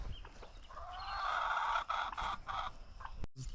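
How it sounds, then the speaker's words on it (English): Easter Egger and Black Copper Marans chickens in a grow-out pen give a run of close, soft clucks and calls in quick bursts, moderately quiet with no talking. "We've got some Easter eggers and some black copper morans."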